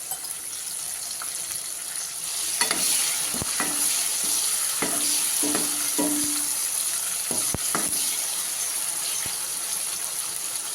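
Tomatoes simmering and sizzling in a pan for a Gujarati dried cowpea curry, with a steady frying hiss punctuated by several sharp clinks and scrapes of a spoon stirring against the pan.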